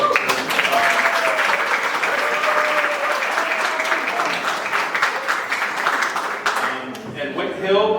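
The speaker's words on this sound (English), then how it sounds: "let's give a round of applause" Audience applause at a library speaker-series event in Saunderstown, steady dense clapping from a room full of people for about seven seconds before tapering off, with a few voices underneath.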